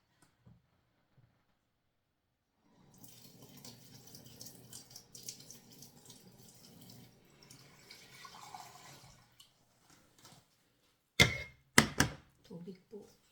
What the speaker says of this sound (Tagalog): Nag-uugas na po tayo mga lalabs ng kamay